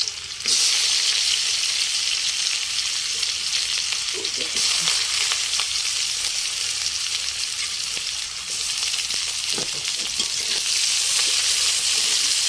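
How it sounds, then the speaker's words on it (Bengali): Onions, garlic and chillies fry in very hot oil, giving a loud, steady sizzle with occasional stirring clicks, continuous and close throughout. "তেলটা প্রচুর পরিমাণে গরম হয়ে গেছে আর এখন আমি পেঁয়াজগুলো দিয়ে দেবো পেঁয়াজ রসুন লঙ্কা সবগুলো দিয়ে দেবো"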